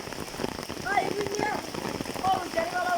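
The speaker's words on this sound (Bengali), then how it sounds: "ঝিমিঝিমি বৃষ্টি" Light drizzle patters steadily on surfaces outdoors during the rainy season near water-filled canals and fields. The drops form a close, continuous hiss, with a faint voice underneath.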